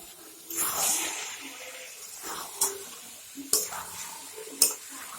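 Mutton, peas and potatoes are stirred with spices in a pot while they fry, giving soft scraping and a quiet sizzle, with a few sharp clinks of the spoon against the metal rim.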